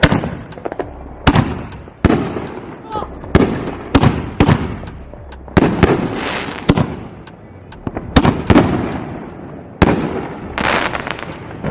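A homemade Fourth of July fireworks show goes off at close range, with a rapid run of sharp cracks and bangs, some in quick clusters and others spaced apart, over about twelve seconds with no talk.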